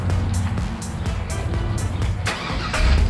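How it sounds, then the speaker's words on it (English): A truck engine starts by remote start, then runs with a loud, close, rough throb of regular pulses and a slight swell in revs toward the end. "Oh, we got that remote start."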